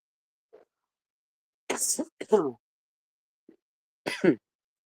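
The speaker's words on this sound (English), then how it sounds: "sorry for the coughing" A few short, harsh coughs come in separate bursts, close to the microphone, with quiet gaps between them and no talking.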